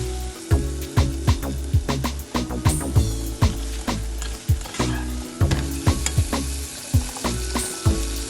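Onion frying down in olive oil in a pan, with steady close sizzling broken by repeated knocks and scrapes of a spoon stirring throughout.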